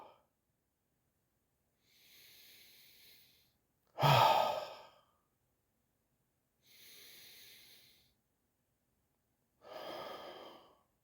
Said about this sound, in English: Just a couple deep breaths.